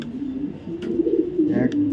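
A white racer pigeon gives a soft, continuous low coo, close and steady, with a brief faint chirp near the end.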